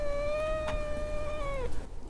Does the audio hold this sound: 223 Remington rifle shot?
no